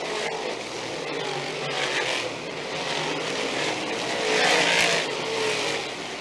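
Big Block Modified race cars roar around a track in a sustained, loud engine drone that swells as they power off turn four, with a broad crowd-and-engine wash throughout.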